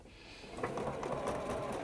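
Sewing machine giving a quick burst of stitching, a short fast rattling run under two seconds, close and without talk.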